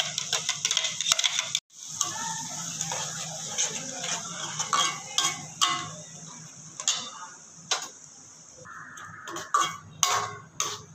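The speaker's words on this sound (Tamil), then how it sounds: "இப்போ நம்ம அரைச்சி வச்சுருக்கோம் எல்லாத்தையும் இப்போ நம்ம இதில் போட்டுக்கலாம்" Ground masala paste scraped into a pan for chicken curry: irregular metallic clinks and taps of a spoon against the vessel over a low sizzle, close and uneven, with a short silent gap early on.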